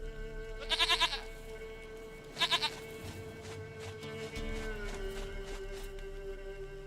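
A goat in The Witcher 3 bleats twice, two short quavering cries a couple of seconds apart, fairly close over a steady ambient game hum.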